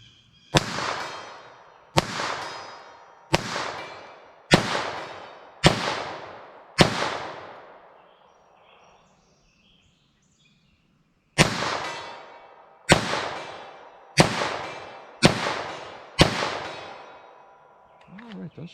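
CCI Uppercut .22 LR rounds fired from a rifle at a target: eleven sharp, evenly spaced cracks, each with a short decaying echo, a run of six, a pause, then five more.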